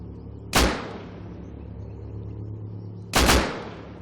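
Two loud, sharp gunshots in the video game Rust, roughly two and a half seconds apart, each with a booming decaying tail over a steady low in-game background hum.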